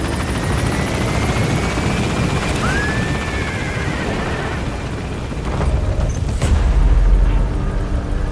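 Helicopter extraction from a hot zone in Metal Gear Solid V: The Phantom Pain, a loud continuous rotor drone with a sweeping radio-like tone early on and a heavier low rumble and thump toward the end.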